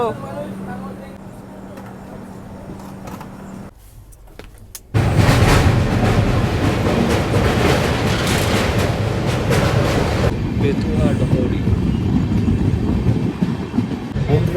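A Sealdah–Jalpaiguri Humsafar express train running at speed, heard from on board as a loud, steady rumble and rattle of wheels and carriage that swells sharply partway through and stays heavy to the end, with brief talk early on.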